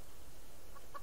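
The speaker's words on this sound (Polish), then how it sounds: "Tam jest kura." A chicken clucks softly in the video game Subsistence, with a couple of brief cluck notes over a steady low background hum.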